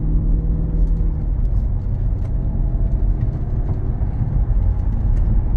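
A 2011 Mercedes-Benz SL 550 convertible cruises on the road, heard from inside the cabin as a steady low rumble of engine and tire roar with faint creaks, loud and unbroken, no talking.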